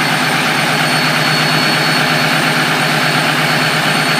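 Diesel truck engine running at high idle, a steady, loud, continuous drone with a broad hiss and a jet-like whine that hold unchanged throughout, with no voices.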